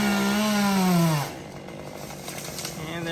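A chainsaw cutting off a dead tree limb during tree trimming: a loud, close engine whine that dips in pitch as it bites into the wood, then cuts off, leaving faint rustling.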